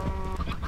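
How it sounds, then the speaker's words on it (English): Chickens in the Minecraft video game give a short, close burst of clucking, lasting under a second. "Look, chickens."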